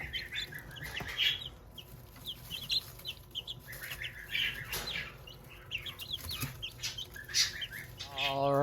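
Small bantam chickens cluck and chirp steadily close by on a farm, a busy overlapping flock of eleven growing birds with occasional brief wing flaps, no talking.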